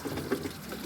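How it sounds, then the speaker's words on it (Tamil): Water drains from an LG inverter top-load washing machine as a soft, steady trickle and gurgle, faint and brief with no voices. "வாட்ரு வெளியில் வர ஆரம்பிக்குதுன்னா"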